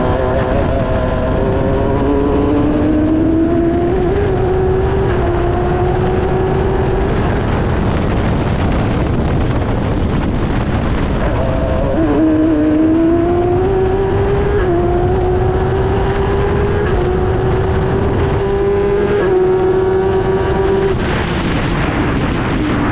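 An F1000 race car engine roars at high revs while racing at the Oulton Park circuit, heard loud and close from on board. Pitch sweeps rise repeatedly through the gears, with sharp drops on downshifts into the corners.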